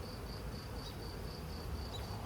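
Honey bees buzz around an open hive of frames, a soft continuous high hum with faint wavering whines of individual bees passing, steady and quiet throughout.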